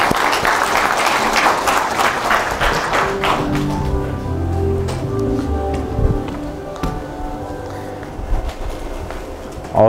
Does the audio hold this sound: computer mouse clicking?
no